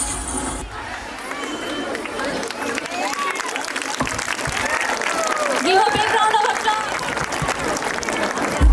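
A school audience claps and cheers at a school event, dense applause running steadily for nearly nine seconds alongside crowd chatter and voices.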